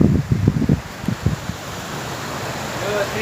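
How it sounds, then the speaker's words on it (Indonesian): A strong storm wind gusts outdoors during a windstorm in Kudus, Indonesia, a broadband roar with bursty low buffeting on the microphone at first, then settling into a steady rushing wash. "anginnya sangat kencang."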